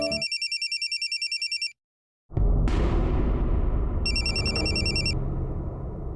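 A telephone rings in an indoor home scene, a repeating electronic ringtone pattern over the first couple of seconds, then breaking off, with a loud rumbling crash-like sound and a burst of ringtone tones returning later.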